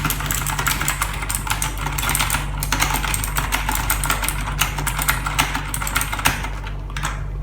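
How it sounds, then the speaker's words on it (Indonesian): Typing on a computer keyboard bought for content creation, with rapid, irregular clicky keystrokes close up over a low steady hum. No one speaks. "Di sini kita membeli si keyboard ini karena untuk suara."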